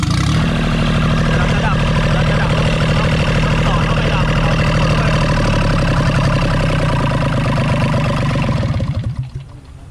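A Yanmar 3TNA72 three-cylinder, 18-horsepower diesel engine runs close by with a loud, steady, throbbing chug that holds even, then dies away just before the end.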